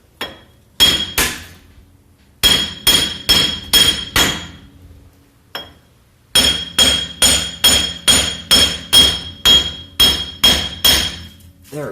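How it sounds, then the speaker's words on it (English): Sharp metallic hammer blows ring out in quick rhythmic bursts as an axle hub is hammered out of a Jeep Cherokee, several series of strikes separated by short pauses, loud and close. "so I'm just going to try hammering it out"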